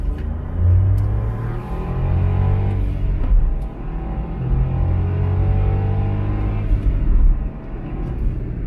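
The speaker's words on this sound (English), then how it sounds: "We'll do a little acceleration test because it's not too bad." Smart ForTwo city car accelerating hard in first gear from a crawl, engine drone rising in pitch with gear whine, loud and steady inside the cabin with no talk.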